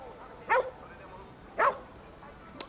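A dog in a video game barks twice, short and moderately loud, about a second apart over a quiet background.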